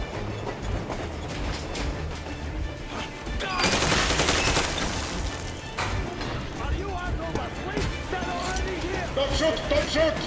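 Dense gunfire crackles in Metro Exodus, a sustained rattle of rapid shots with a louder burst in the middle, under shouting voices and a rumbling, train-like background.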